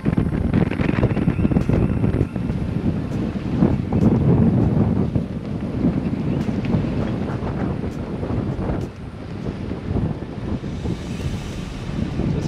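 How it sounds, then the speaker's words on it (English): Strong morning wind buffets the microphone on a sailboat in continuous low rumbling gusts, loud and close, with no voices. "It's obviously a little windy this morning."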